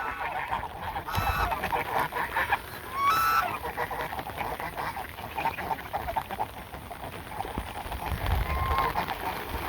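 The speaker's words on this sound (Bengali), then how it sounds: "হাঁসের এখন কায়দা।" Ducks on village water make intermittent honking quacks over a steady outdoor background, with a couple of louder bursts partway through and a faint voice now and then.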